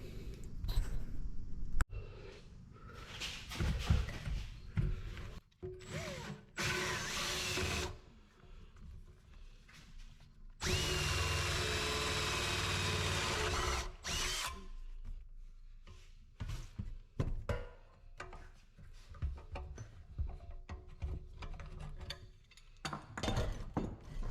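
A drill fitted with a hole saw cuts through a small piece of wood and metal in a workshop during a Harley off-road trike build, giving sustained grinding bursts broken by short pauses, clattering handling and occasional knocks.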